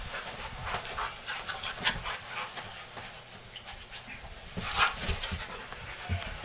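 A puppy pants rapidly and close, with soft whimpers mixed into the breathing and faint indoor background noise, no speech.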